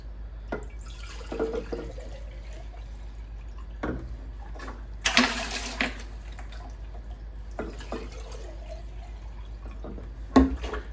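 Water is added to Master's Mix mushroom substrate in several short splashing pours and drips, with quiet pauses between them.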